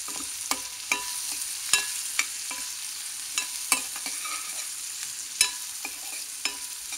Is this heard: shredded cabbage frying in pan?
yes